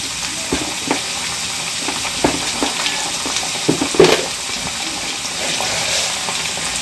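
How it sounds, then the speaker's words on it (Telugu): Chopped onions drop into hot oil in a pan for a farm chicken curry, giving a steady close sizzle and fry with a few soft stirring clicks and scrapes throughout, no voices. "సో కట్ చేసి పెట్టిన ఆనియన్స్ వేస్తానండి"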